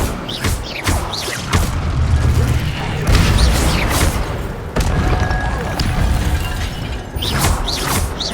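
Incendio fire spell cast in the Hogwarts Legacy video game, loud whooshing bursts of flame with booming impacts and crackling magical effects that repeat several times amid game noise.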